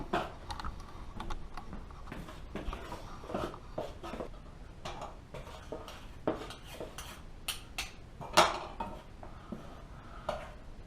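Thick Armenian halvah candy mixture being stirred in a pot at about 300 degrees, making a series of close, irregular clicks, taps and scrapes of the spoon against the metal, with one sharper knock near the end.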